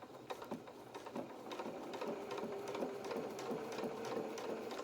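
A domestic sewing machine stitches a centre seam on a small fabric sailing anorak, running in a steady continuous mechanical whirr with rapid needle clicks, sustained and close for the whole stretch.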